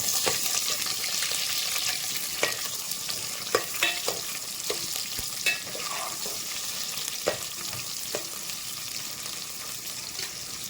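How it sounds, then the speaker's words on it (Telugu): Thinly sliced onions sizzle and fry in a pan for vegetable pulao, a steady bright crackle running throughout with scattered sharp scraping clicks from stirring, close and fairly loud, no voices. "ఇవైతే మంచిగా ఫ్రై అయిపోయి"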